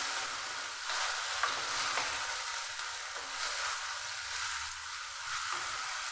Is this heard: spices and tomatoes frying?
yes